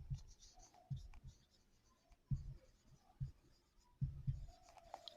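Marker or chalk strokes on a board as a teacher writes out a coordination compound's name, a series of short scratchy bursts in an uneven rhythm, close and fairly quiet, with no speech over them.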